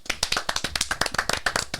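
Close, crisp hand claps in a quick uneven rhythm, roughly a dozen sharp slaps from a small group, loud and dry with no talking.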